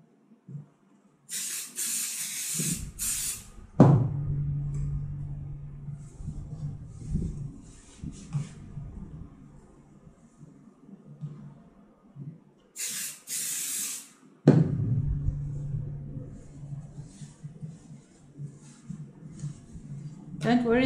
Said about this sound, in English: Don't worry, the 505 spray all washes out afterwards, so you won't have any discoloring in your fabric or anything.